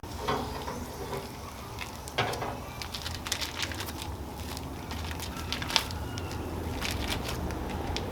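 Blueberry wild rice sausages from McDonald's Meats laid on a wood-fired grill in a Chud Box smoker, giving a steady soft sizzle and crackle with scattered pops, fairly faint and continuous.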